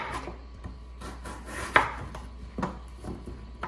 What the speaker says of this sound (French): Et on va couper les pommes de terre comme ceci.